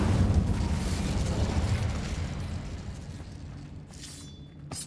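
A fire spell cast in Hogwarts Legacy, a loud whooshing burst of flame that roars broadly and gradually fades over several seconds, with faint chimes near the end.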